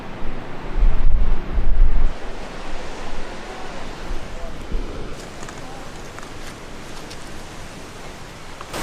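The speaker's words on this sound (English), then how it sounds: "You can really hear the waves." Ocean surf breaks along the shore of a Palos Verdes coastal cliff trail, a loud, roaring wash of waves mixed with gusty wind buffeting the microphone, swelling strongly early on and then settling into a steady rumble.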